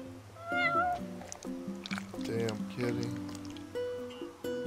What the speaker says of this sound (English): Okay, now we can feed the kitty.